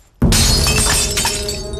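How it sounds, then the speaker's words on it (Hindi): Glass being pounded and crushed, a sudden loud onset followed by sustained close crunching and grinding that continues steadily to the end. "ये कांच को कूट क्यों रहे हैं?"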